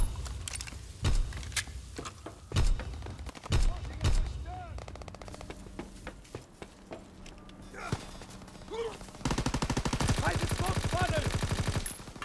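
Gunfire in a WW2 video game: scattered single shots and bursts early on, then a sustained rapid machine-gun stream near the end, with voices shouting over the action.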